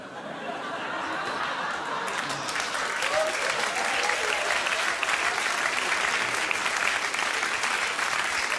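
An audience at a cabaret semifinal breaks into sustained, dense applause that swells and holds steady, with some laughter mixed into the crowd noise.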